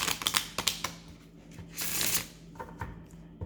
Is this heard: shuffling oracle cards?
yes